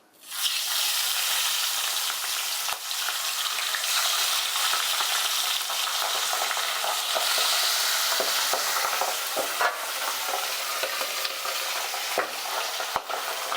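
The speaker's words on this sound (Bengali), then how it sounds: "আমি তিনটে করে মাছ দিয়ে সব মাছগুলো ভেজে নিচ্ছি" Pabda fish fry a few at a time in a pan of oil over a medium gas flame, making a loud, steady, hissing sizzle with scattered sharp crackles and pops throughout, close by and with no talk.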